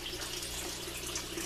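Water gushes steadily from the valve at the funnel-shaped bottom of an aquaponic swirl filter tank in a greenhouse, a continuous close rushing flow with no talk over it.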